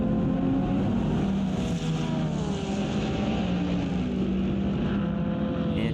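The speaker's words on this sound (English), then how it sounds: "Coming across the line, there's that 77 Proton competition Ford Mustang." A Ford Mustang GT3 race car in a racing video game roars past, a loud, sustained engine drone with shifting pitch that fills the whole clip, no voices.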